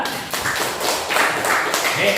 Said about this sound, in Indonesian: Beri tepuk tangan kepada Nanda.